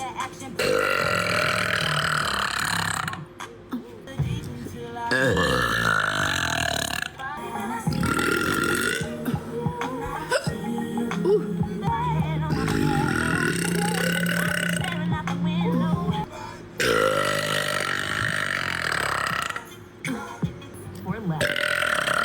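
Long, loud burps repeat one after another, some drawn out and croaky, separated by short bursts of a person talking.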